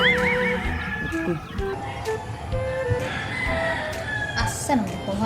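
A rooster crows near the start, with chickens clucking and other farmyard noise filling the background throughout.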